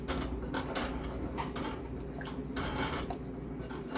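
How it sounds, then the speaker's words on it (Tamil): Squid egg curry with tamarind is stirred in a clay pot, making continuous close scraping and clattering of a utensil against the earthenware in rhythmic strokes. "இப்போ நல்லா மிக்ஸ் பண்ணி விடுவேன்."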